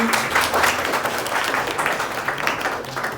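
A classroom of high-school children claps together for a classmate's correct answer, a dense, steady burst of applause lasting throughout, close and lively, with faint voices mixed beneath.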